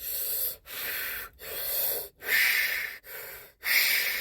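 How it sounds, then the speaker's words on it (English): Fire breathing for meditation: five forceful, rhythmic breaths close to the listener, each a loud hissing rush of air separated by short silent gaps. "I start kind of doing some kind of breathing techniques. I like to call fire breathing"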